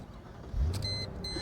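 A 2002 Mercedes-Benz SL500 Silver Arrow Limited Edition is started with its switchblade key, a brief starter whirr and low thump followed by an engine rumble and faint chimes from the dash.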